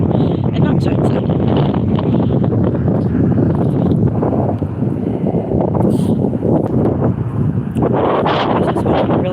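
Strong wind blows across seaside tidal pools, buffeting the microphone in a continuous loud roaring rush with gusty swells throughout.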